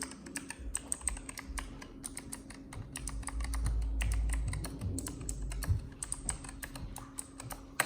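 Quick bursts of keystrokes on a Razer Huntsman Elite keyboard click and clack close by in uneven runs, with brief pauses between them.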